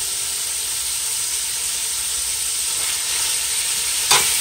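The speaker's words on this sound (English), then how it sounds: "We're going to put some coconut oil because we like the flavor." Coconut oil heating in a pan before kale is added: a continuous, loud, close hiss of sizzling oil with a brief sharper crackle near the end, no talking.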